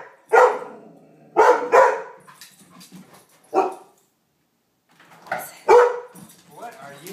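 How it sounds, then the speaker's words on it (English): A dog barks in short bursts, a few close sharp barks with pauses between, mixed with some quieter whimpering sounds. "What are you barking at?"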